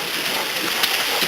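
Rain pouring down during a rainstorm, a dense steady hiss of falling water with scattered drops and splatters, loud and constant throughout a short stretch with no talk.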